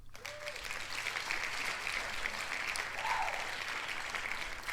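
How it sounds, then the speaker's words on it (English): Crowd cheering and applause as a canned effect, a steady wash of clapping and voices holding evenly loud throughout with no speech over it. "Little cheer there for you all."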